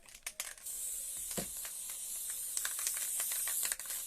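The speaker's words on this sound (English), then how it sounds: "Managed to turn the nozzle, it went everywhere then. Managed to spray it up my arm." June Tailor basting spray hissing from an aerosol can in a series of short bursts, close and fairly quiet, with faint handling clicks between sprays.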